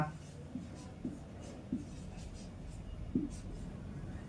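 Pen scratching Bengali shorthand strokes on paper, a close, faint series of short scrapes and taps with brief pauses between strokes.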